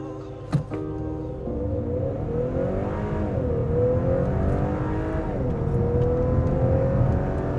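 A 2021 Acura TLX A-Spec with a 2-liter VTEC turbo four-cylinder accelerates hard without launch control, its engine note climbing steadily through the gears with brief dips at the shifts, loud and continuous from inside the car.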